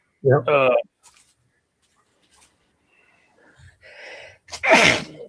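A single sharp sneeze bursts out near the end, preceded by a short voice and some faint breathy sounds in quiet surroundings.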